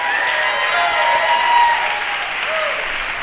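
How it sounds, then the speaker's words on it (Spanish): A live talk audience claps in a steady, dense burst of applause for a few seconds, loud and fairly close, with no voices over it. "Un fuertísimo aplauso."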